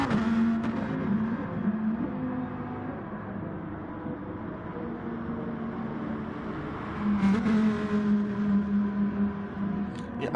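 A Lamborghini GT3 race car at Interlagos in a racing game, its engine drone steady and mid-distance with shifting tones, swelling louder again toward the end.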